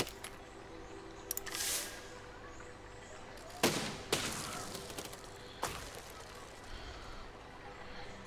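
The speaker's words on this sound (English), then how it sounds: "that's a shrapnel cannon" A shrapnel cannon fires in the building game Besiege, giving three or four sharp blasts spaced a couple of seconds apart, each with a short rumbling tail, over quiet game background.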